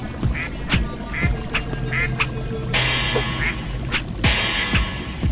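A duck in the video game Hide Time gives repeated loud nasal quacks in quick bursts, mixed with game effects and bright clanging bursts.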